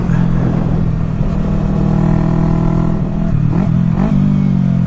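A small Yamaha R3 motorcycle engine (2016) drones steadily at high revs, its pitch holding then dipping and climbing again as the throttle shifts, loud and close.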